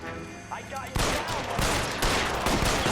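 Gunfire in the L.A. Noire video game: a dense, loud fusillade of rapid shots bursting in after a quieter opening and continuing steadily, with a voice talking briefly underneath.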